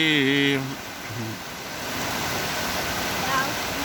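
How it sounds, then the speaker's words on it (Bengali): Heavy rain pours down in a village in Manikganj, Bangladesh, a dense, steady hiss that follows a brief burst of other sound at the start. "এলো অনেক বৃষ্টি"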